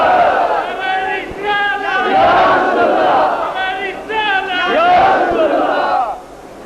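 A crowd at a Milad-un-Nabi religious gathering chants slogans in loud unison, rising and falling in waves over several seconds with overlapping voices.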